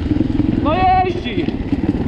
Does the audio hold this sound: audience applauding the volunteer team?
no